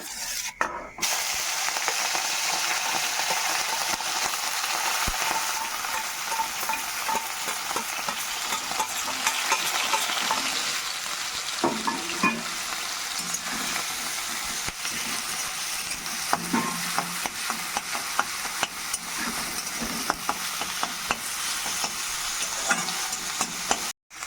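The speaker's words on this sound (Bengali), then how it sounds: "এবার কুচি করে রাখা মাছটা দিয়ে দেবো, চিংড়ি মাছটা।" Egg omelette mixed with chopped shrimp and a black cumin seed tempering fries in a pan, giving a steady close sizzle with occasional stirring scrapes throughout, no talking.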